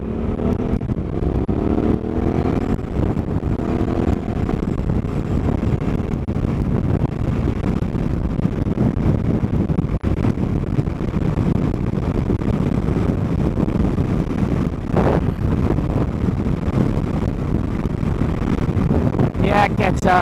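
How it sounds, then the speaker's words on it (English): Strong wind buffets the microphone at Parker Ranch beside a highway, a steady loud rumbling roar that fills the whole stretch, with motorcycle engine noise mixed in. "This is already a windy place, let alone on a windy day."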